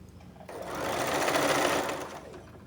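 A sewing machine stitches the front part of a blouse with a half-inch seam, a rapid steady whir that starts abruptly, runs loud and even for about a second and a half, then stops, with no one talking.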